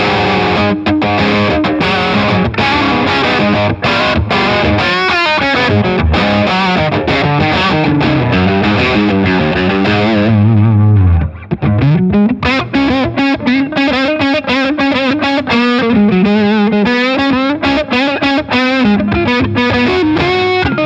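Electric guitar through a Beetronics Octahive fuzz pedal with the pre-gain pushed into the amp's front end, loud and saturated, with busy sustained riffs and bends, a brief break midway, then continued playing.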